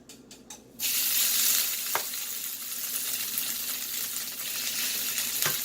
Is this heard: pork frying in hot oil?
yes